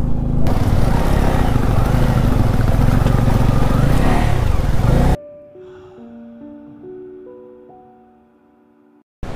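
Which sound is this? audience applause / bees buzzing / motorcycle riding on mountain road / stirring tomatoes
motorcycle riding on mountain road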